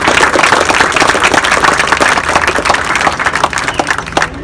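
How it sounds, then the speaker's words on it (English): An outdoor crowd at a street naming ceremony claps loudly and steadily, a dense mass of nearby hand claps that thins slightly toward the end. "big round of applause."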